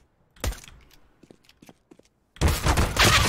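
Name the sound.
gunfire in a first-person shooter video game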